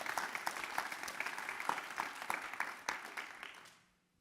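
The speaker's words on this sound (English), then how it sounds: "So please give them a round of applause for spending time with us today." Audience applause for speakers at a climate tech panel at Stanford LEAD, steady dense clapping from a room crowd that fades out over the last half second.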